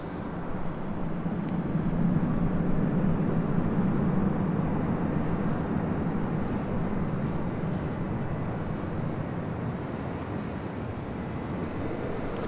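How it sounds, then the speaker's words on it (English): A Sun Country Boeing 737-800 rolls for takeoff on runway 24 left at LAX, a distant broad engine roar that builds and then holds as a steady rumble, with no talking. "Sun Country 737-800 heading to Minneapolis, now rolling down 24 left"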